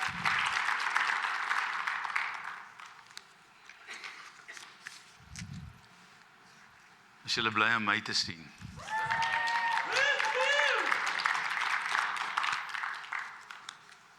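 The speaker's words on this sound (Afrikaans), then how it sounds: "Hulle weer 'n lekker hande klap." A church congregation bursts into applause, a thick wave of clapping that swells, fades and returns, with a pastor speaking over parts of it in Afrikaans and a sung or drawn-out vocal tone between.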